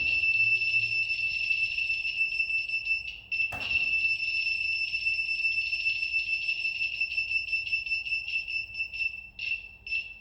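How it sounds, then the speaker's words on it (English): A buzzer on a model earthquake alarm drones steadily in a high, continuous tone, loud and close, with one sharp click partway through and no voices. "Hence, the buzzer starts to buzz."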